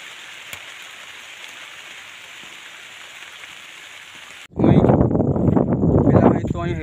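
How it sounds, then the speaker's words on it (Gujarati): Rain falling outdoors in rural countryside: a faint steady hiss that suddenly swells into a loud, close rushing patter. "છાંટા પડે છે અને વરસાદ પણ આવી રહ્યો છે"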